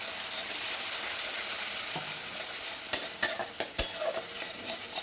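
Spices with turmeric and chili powder frying in a pan, a soft steady sizzle with a few sharp scraping stirs and clinks near the end.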